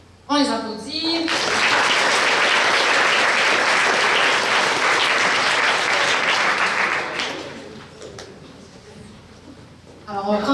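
Sustained, loud applause from an audience honouring gold medal winners at a regional science fair final in Quebec, with clapping rising sharply and holding steady for about seven seconds before fading, and brief voices at the start and end.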